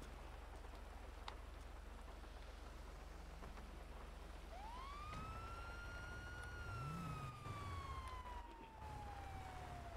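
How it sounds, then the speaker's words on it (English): A police siren in a GTA roleplay video game winds up sharply, then holds and slowly falls in pitch, sounding at moderate distance over a constant rain-like background rumble. "What the fuck is that siren?"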